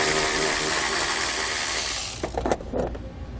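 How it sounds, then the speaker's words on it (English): 10mm socket ratchet loosening a nut on a 2018 Jeep JK Wrangler kick panel: a steady hum gives way to a few close, quick ratcheting clicks and clunks near the end. "Now to secure our ground, we're going to use a 10mm socket and take one of the nuts off"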